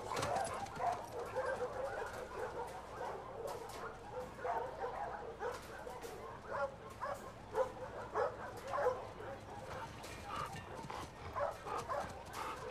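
A dog in the video game The Last of Us Part 2 gives soft, excited yips, whimpers and short barks in irregular bursts. It is fairly close but quiet, with a low background hum.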